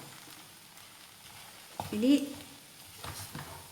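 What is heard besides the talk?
stirring raw banana thoran in a hot pan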